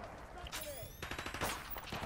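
Rapid bursts of AK rifle fire from the Call of Duty Modern Warfare Remastered game, a run of sharp repeated shots with mixed game sounds and a voice talking over them.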